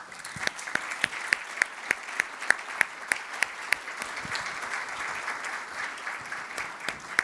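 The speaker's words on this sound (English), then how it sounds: "If we can give them a round of applause, please." Sparse applause from a small audience, with distinct individual claps patting along steadily for several seconds.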